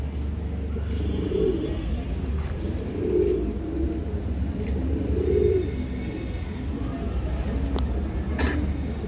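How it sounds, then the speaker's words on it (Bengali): A pair of green-necked pigeons coo steadily, their low throaty calls repeating every couple of seconds over a constant hum, close by and clear, with a few faint chirps. "একজোড়া সবুজ গলা কবুতর"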